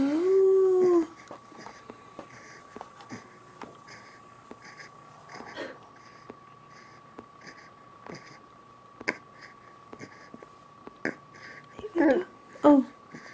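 A dog lets out a loud drawn-out whimpering howl at the start, then goes quiet with small noises, and more short whines and yelps come near the end.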